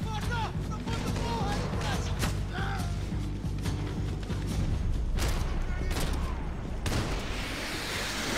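Sustained gunfire from a weapon in Max Payne 3, rapid repeated shots and crashes forming a dense continuous barrage with game effects and a voice talking over it.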